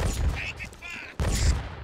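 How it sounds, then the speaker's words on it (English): Light rifle fire in the video game BRINK comes as two sharp, loud bursts a moment apart, with a brief lull of softer game noise between them. "So this is a light rifle"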